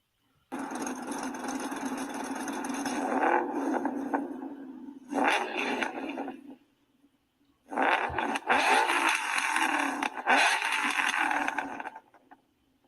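A 2013 Ford Mustang Boss 302 in School Bus Yellow plays back from a recorded video, its engine running and revving in long sustained bursts broken by a couple of short silent gaps.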